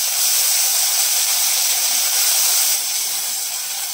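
Ginger paste sizzles loudly and steadily in hot oil in a pan, part of cooking a bhola fish oil jhal, with a continuous hiss that eases slightly near the end.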